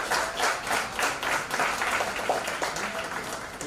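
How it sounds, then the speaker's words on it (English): Conference audience at a psychiatry meeting in Nizamabad clapping for the organizing chairperson, a lively round of applause with distinct individual claps and faint background voices. "A big round of applause for this organizing chairperson."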